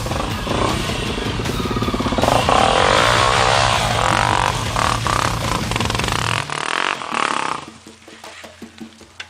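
Motorcycle engine revving hard on a muddy trail climb, a loud sustained roar with rising pitch and clatter that cuts off abruptly near the end, leaving quieter scraping and rustle.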